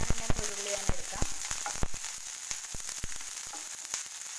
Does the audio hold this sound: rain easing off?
no